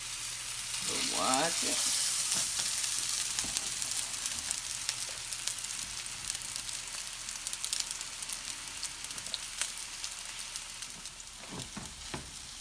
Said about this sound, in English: put them in the pan, it should make 4. It's going to be 4 to 5. I'm going to do 4. And the pan is hot,